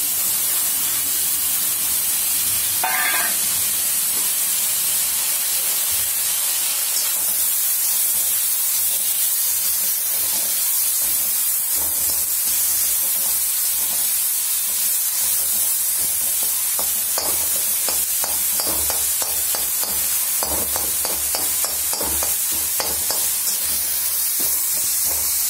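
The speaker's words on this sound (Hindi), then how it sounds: "खोआ कढ़ाई में डालेंगे।" Khoa (milk solids) roasting and being stirred in a kadai for coconut ladoos, a steady soft sizzle and scraping hiss with occasional louder stirring scrapes, close and continuous with no talk.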